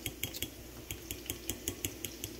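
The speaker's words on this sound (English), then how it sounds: "you beat your 4 eggs like so" Four eggs beaten in a bowl for Dominican-style eggs: a fork clinks briskly against the sides in a quick, steady rhythm of sharp metallic taps, close and clear with no talking.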